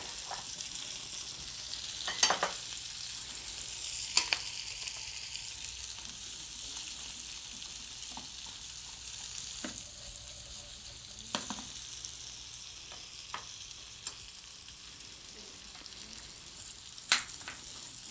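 A large onion fries in a pan with a steady broadband sizzle, broken by a few sharp stirring clicks and scrapes spaced through the clip, fairly quiet and with no talking.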